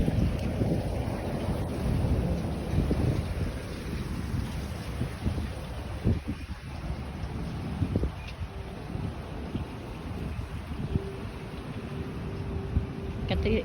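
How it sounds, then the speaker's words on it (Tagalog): Strong wind beside a swimming pool buffets the microphone in a steady, heavy roar for the whole stretch, with occasional voices faintly underneath. "Ang lakas ng hangin."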